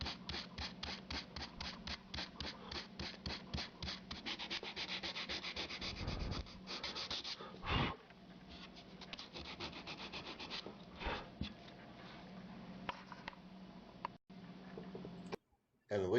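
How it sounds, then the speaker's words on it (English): Sandpaper rubs back and forth over a geometric wood carving in quick, rhythmic strokes that later slow into longer scrapes, close and clear, with a voice talking faintly at times. "Be very careful so you will not chip away the top of the carvings. Don't sand too much."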